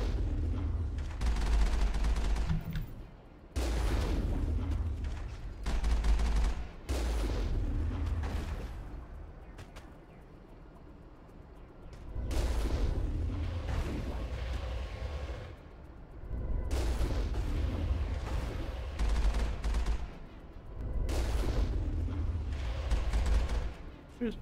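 Rockets and gunfire in the Mass Effect video game during a fight with the Geth, repeated heavy booming blasts and bursts of shots in waves, loud and close with brief pauses between them.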